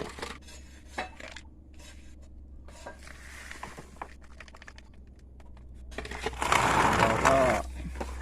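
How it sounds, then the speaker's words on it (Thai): Potting soil mix for ornamental caladium plants stirred in a container, gritty scraping and rustling in bursts that grow louder and denser toward the end, with someone speaking briefly. "คนให้เข้ากันนะครับ"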